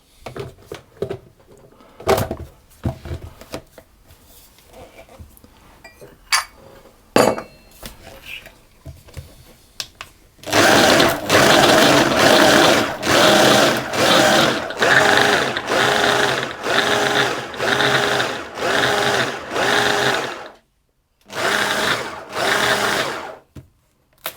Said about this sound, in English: I'm going to pulse that until the mixture resembles fine breadcrumbs